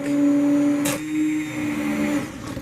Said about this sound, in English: So we're going to hit it with the stick blender.